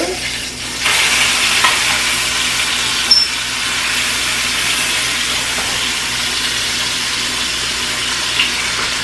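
A steak fries in a hot pan just after being flipped, a loud steady hiss of sizzling fat that swells at the turn and holds evenly close by.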